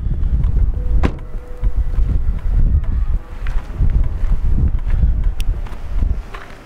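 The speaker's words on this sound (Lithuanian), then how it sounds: "O čia biškai mažesnis vėjas." Wind buffets outdoors near Laguna Verde, heavy low rumbling gusts that rise and fall, with a few faint knocks and rustles.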